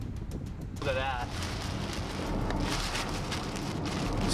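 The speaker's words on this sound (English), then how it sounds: "It's not just a downpour." Heavy rain pounds a moving vehicle during a violent storm, a dense continuous roar of rain and wind noise that stays loud throughout, with a brief voice near the start.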